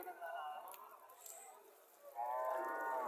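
A young two-tooth Sindhi breed cow at the Mirshani cattle market gives low, drawn-out moos close by, with a longer call near the end and people's voices faintly around it.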